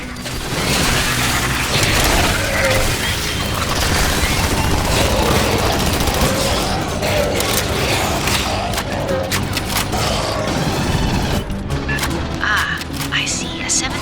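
Sustained gunfire in the sci-fi shooter Aliens: Fireteam Elite as players shoot capacitors, loud rapid bursts with mechanical clatter running throughout, sharper cracks toward the end, with voices talking over it.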